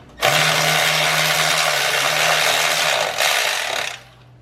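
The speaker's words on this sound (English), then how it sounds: "Now I'm going to use my Milwaukee battery ratchet." A Milwaukee cordless battery ratchet runs for nearly four seconds, driving transmission pan bolts on a GM 4L60E with a loud steady motor whine that dips briefly as the bolt snugs up, then stops.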